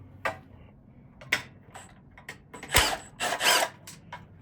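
A ratchet works on 8mm bolts holding the shroud cover of a Coleman B200R engine, giving scattered clicking bursts and short ratcheting rasps at close range with quiet gaps between.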